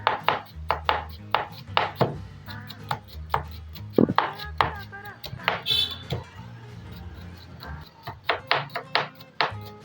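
A knife chops onion on a board in a home kitchen while fried rice is being made, with sharp, quick strikes in uneven bursts and a voice talking underneath.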